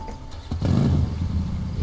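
Motorcycle engine in the video game Finding Paradise, a short rumbling idle that swells after a brief click and holds steady, fairly close and moderately loud.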